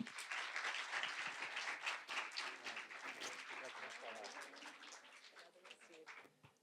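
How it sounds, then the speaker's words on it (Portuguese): Sustained audience applause fills a hall as a speaker named Fernando is welcomed to the stage, a dense wash of many hands clapping that slowly thins toward the end, with faint voices mixed in. "vamos receber aqui, por favor, com uma salva de palmas, o Fernando"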